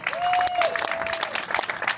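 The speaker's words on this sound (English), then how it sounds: "One final round of applause for them." A crowd gives a round of applause for volunteers and staff at a Strides For Seniors event, steady dense clapping under a brief sustained tone, with some voices mixed in.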